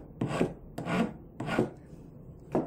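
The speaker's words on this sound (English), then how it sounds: "So I'm gonna take this file, I'm gonna run it over the seam, just get anything excess off." An abrasive file run over the soldered seam of a stacking ring rasps in four separate strokes, each a short, close scraping rub with quiet pauses between, with no voice.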